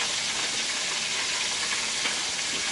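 Chicken frying in hot oil, a dense steady hiss of sizzling with fine popping and splattering throughout, close and continuous with no talking.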